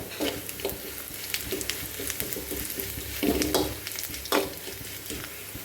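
Dried red chillies, curry leaves and shallots fry in hot oil in a pan, crackling and sizzling continuously up close while a spoon stirs with a few sharper scrapes.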